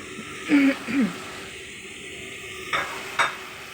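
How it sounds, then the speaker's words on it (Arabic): Liver being sautéed and stirred in a pan for liver sandwiches, a steady low sizzle with a few scraping stirs early on and a couple of brief clinks later, close and fairly quiet, with no talking. "هنفضل نشوح فيها لغايه اما يدوا تكه كده مع بعض"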